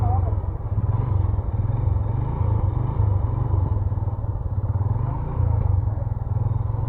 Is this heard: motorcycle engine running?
yes